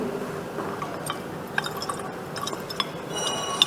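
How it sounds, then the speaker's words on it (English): Water is added to a 250 ml measuring flask holding dissolved sodium carbonate during a chemistry practical, giving faint, scattered drips and small liquid splashes over a quiet room hiss. "Now we shall add the water"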